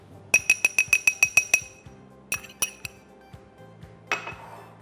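Chicken is mixed in a bowl with salt, black pepper and cornflour: a quick run of bright metal-on-bowl clinks, then a few scattered taps and a softer scrape, close up with no talking.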